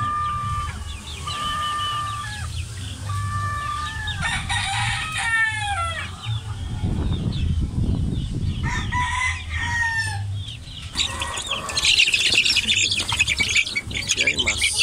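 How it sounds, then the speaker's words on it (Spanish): Chicks and chickens call in a farmyard: high, repeated chick peeps in short bursts, then louder clucking and a rooster's crowing, all close and fairly loud over a low background rumble. "Pollito más pollito."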